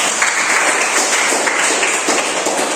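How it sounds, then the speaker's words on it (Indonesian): A short burst of applause rises for Peter at a university student performance assessment in Ambon, a dense patter of many hands clapping at once, fairly close, with no one talking over it. "tepuk tangan untuk Peter"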